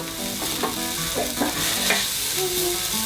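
Onions and garlic frying in a skillet for beef tacos give off a constant close sizzle, while a utensil stirs and scrapes them in a loose rhythm of clicks and scuffs. No one speaks.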